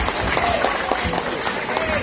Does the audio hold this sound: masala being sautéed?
no